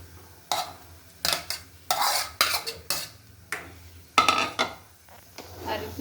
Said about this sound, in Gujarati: હલાવવાનું છે જ્યાં સુધી છાશ બધી બળી ન જાય